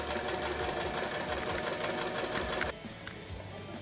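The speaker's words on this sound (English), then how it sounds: "so make sure to sew on there, and then make sure to backstitch on the ends so everything stays in place" A sewing machine stitches a seam with backstitching, making a fast, steady, close mechanical rattle that cuts off sharply near the end and leaves a low hum.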